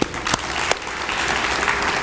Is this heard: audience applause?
yes